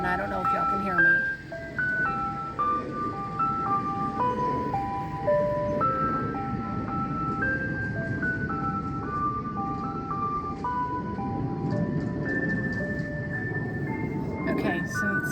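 An ice cream truck's jingle melody plays continuously as it passes outdoors, loud and steady over traffic rumble, with a voice speaking over it.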